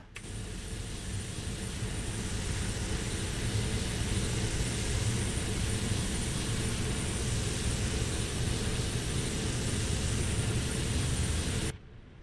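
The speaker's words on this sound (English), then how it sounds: "Engine 1 is now firing up." A C-130 Hercules turboprop engine spinning up during a cold start in the DCS flight simulator, a dense, steady roaring whine holding for about twelve seconds before cutting off abruptly.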